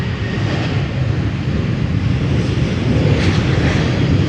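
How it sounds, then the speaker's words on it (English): A 14-year-old KLM Boeing 737-700 passing by at Amsterdam, a loud, continuous jet rumble with wind noise that builds slightly toward the end, alone with no talk. "KLM flight 1931 will pass by in the foreground"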